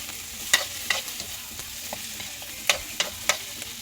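A spatula stirs seasoned adobong kangkong in a frying pan: scattered sharp clinks and scrapes over a faint, steady sizzle, close up with no voices.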